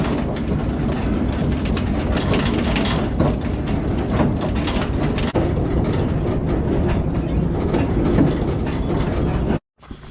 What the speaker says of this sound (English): it doesn't take hardly any PTO horsepower to move or to rotate the baler